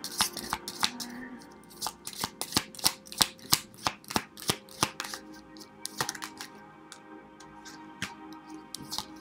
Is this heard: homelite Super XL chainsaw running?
no